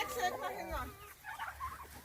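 Domestic turkeys gobbling and clucking outdoors in a village garden, a warbling burst followed by softer calls, with faint background noise and maybe distant voices.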